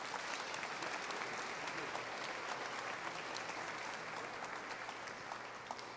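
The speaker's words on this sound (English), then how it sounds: "Please give them a round of applause." Steady applause from a rally audience at a state house rally fills the space continuously, a dense, even wash of many hands clapping at moderate distance.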